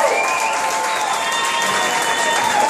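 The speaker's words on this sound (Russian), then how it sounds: "Ваши бурные и смолкающие аплодисменты нашей замечательной аудитории." Wedding guests at the couple's reception in Stuttgart applaud in a dense, steady wash of clapping that stays loud and even from start to finish, with faint tonal sounds running underneath.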